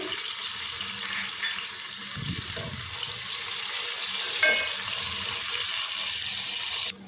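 Onions, ginger-garlic paste and tomato frying in a pot, a soft steady sizzle with brief clatter of stirring and a short thud midway, faint and close, no talk.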